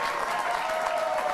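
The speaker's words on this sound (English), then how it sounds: "they're applauding for the mafia" Studio audience at a late-night political talk show bursts into steady, dense applause, loud and close throughout with no pauses or voices.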